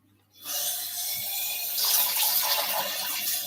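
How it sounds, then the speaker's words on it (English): Water splashes and trickles steadily into a pan of currywurst sauce, starting abruptly after a short silence and continuing as a close, bright pour for about three seconds. "And 2 tablespoons of water."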